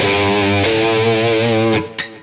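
Electric guitar with distortion through an AC30 amp model and 4x12 cabinet IRs on a Quad Cortex, sustaining a thick chord for under two seconds, then cutting off with a short final pluck, loud and up close with no talk.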